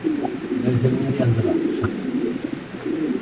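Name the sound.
Lahori pigeons cooing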